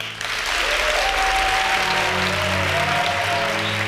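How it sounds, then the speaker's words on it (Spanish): A television studio audience breaks into loud, sustained applause that fills the room, with a faint voice briefly heard underneath. "Yo os pido un aplauso para Luis Ruiz de Gopegui."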